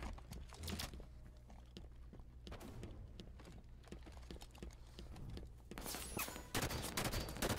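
Rapid gunfire from the video game Halo 5, dense bursts of shots crackling through most of the stretch, loud and close with a heavier flurry near the end and no talking.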